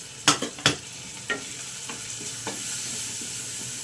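A spoon stirs soaked sabudana khichdi with tomato, salt, coriander-cumin, turmeric and red chilli in a pan, giving a few sharp scraping knocks early on, then a soft steady sizzle of frying underneath.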